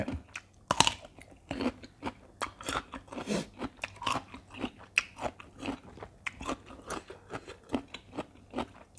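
Crunchy spicy salad of crisp, springy cuttlefish tentacles is chewed close to the mic, with steady repeated bites and crackly munching running through the whole stretch.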